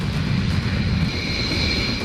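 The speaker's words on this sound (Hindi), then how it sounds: "दो रफाल फाइटर उड़ा दिए।" Two Rafale fighter jets fly past, a loud, steady roar of jet engines with a broad rumbling low end and a faint high whine, heard alone.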